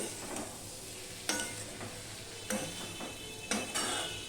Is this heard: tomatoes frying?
yes